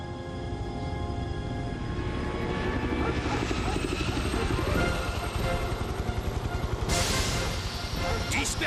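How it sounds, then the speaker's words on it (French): A helicopter in the animated series Air Academy approaches with a loud, steady rotor roar that builds over several seconds, and voices speak over it. "un des hélicos des Barracudas se dirige vers les Rangers"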